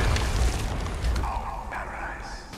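Deep, booming explosion in Far Cry 6 with a rolling low rumble that slowly fades, followed by faint crackling.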